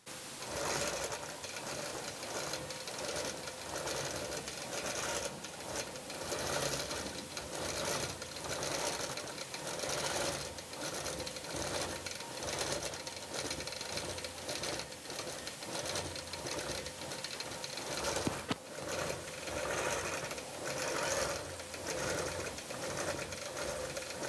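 Close and continuous, a sewing machine hammers out a wool sheep design in a steady, rapid needle rattle that carries on without a break for over twenty seconds.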